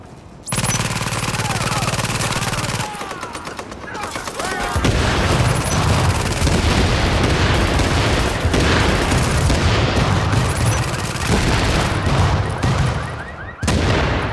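Gunfire from enemies in The Division, a video game set in a combat zone, crackles in dense, sustained automatic bursts with heavy booms, loud and close, broken by a brief lull before the shooting resumes.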